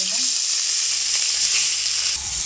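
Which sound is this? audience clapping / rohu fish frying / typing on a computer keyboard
rohu fish frying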